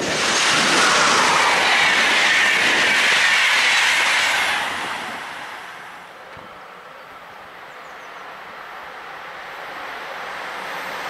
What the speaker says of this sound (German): Express mit dem Containerzug Richtung Augsburg.